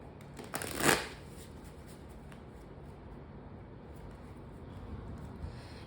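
Tarot cards shuffled in one brief papery burst near the start, followed by quiet room tone with faint background hum.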